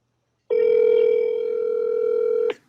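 A telephone line gives one long steady electronic tone during a call on a trivia show, a single unbroken two-second note that starts and stops abruptly, clear and close, with no talking.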